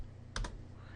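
Two quick, light keystrokes on a computer keyboard, close and quiet, with nothing else around them.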